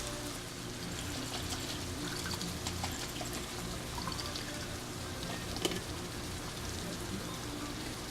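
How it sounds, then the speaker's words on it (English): Pizza sauce thinned with water pouring from a jar into a lasagna dish in a home kitchen, a steady soft liquid pour with faint trickling, fairly quiet and continuous, with no talking over it. "I'm going to pour the whole jar in there."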